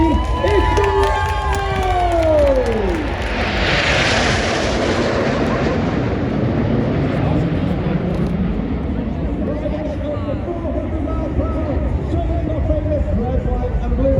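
Red Arrows RAF aerobatic jets roar overhead at an air show in Ayr, their engines sweeping past loudly as a large outdoor crowd cheers and chatters, with a voice heard over a public address.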